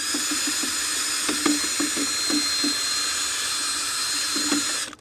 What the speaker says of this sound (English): So I'm just going to go ahead now and get this bucket all the way up.